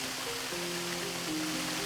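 Waterfall and mountain stream in a valley, a steady, dense rush of falling and flowing water at moderate distance, with faint tonal hum underneath and no voices.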